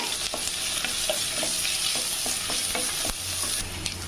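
Sliced onion and a sprig of curry leaves fry in a hot pan for Kumbakonam kadappa, giving a steady bright sizzle with repeated scrapes and taps of a stirring spoon throughout.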